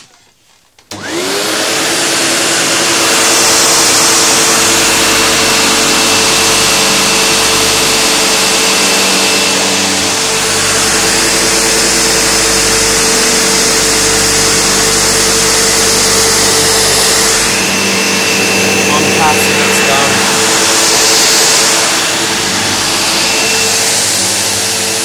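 Sebo X4 Extra upright vacuum cleaner runs on carpet with its brush agitating, a loud, steady roar with a constant motor whine that starts abruptly and holds for the whole stretch, close and uninterrupted.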